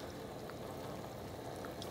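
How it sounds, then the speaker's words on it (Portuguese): Batter-coated eggplant and zucchini frying in a pan of oil, a continuous even sizzle heard close and fairly quiet, steady throughout with no speech. "Fritando a massinha."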